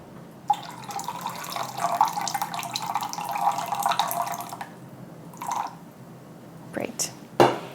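Sparkling water poured for an at-home cocktail with lime juice, a steady fizzy liquid stream for about four seconds, followed by a few brief splashes and clinks.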